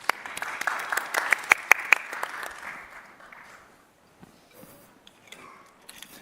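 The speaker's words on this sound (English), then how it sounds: "give everyone, our panelists, a round of applause." Audience applause for panelists at a livestreamed conference panel, a burst of clapping that swells loudly for a couple of seconds, then thins to scattered claps and fades into quiet room noise.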